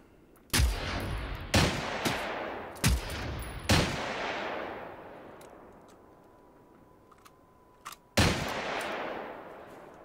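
Gunfire in the video game Generation Zero: several loud, sharp shots in quick succession, each with a long rumbling tail, then a pause and one more blast, with no talking.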